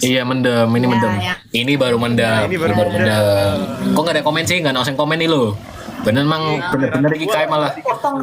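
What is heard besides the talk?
No everyday noises stand out.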